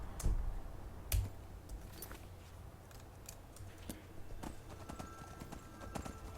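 Horse hooves clopping while riding in the video game Skyrim, a few louder thuds early on, then softer steady footfalls under faint game ambience.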